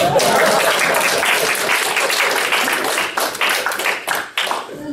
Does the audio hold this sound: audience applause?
yes